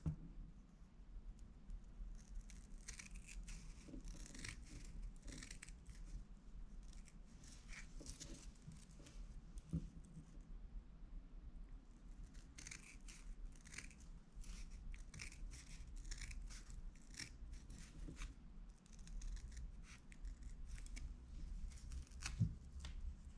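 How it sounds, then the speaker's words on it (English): Quiet, close snipping of scissors cutting through a Scotch-Brite scouring pad in a long series of short crunchy strokes, with brief pauses and no talking. "And now I'll get my handy dandy pink scissors."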